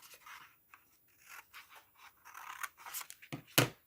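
Scissors cut through red card while making a spinning heart card, giving a run of soft rasping snips that ends in two sharper closing cuts, close and fairly quiet with no talk.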